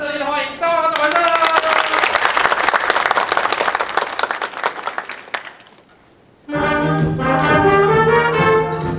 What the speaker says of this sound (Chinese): 掌声热烈欢迎赵华的完胜！